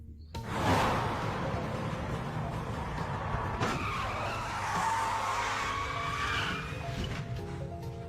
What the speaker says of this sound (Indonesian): Brian langsung freestyle untuk menghentikan mobil tersebut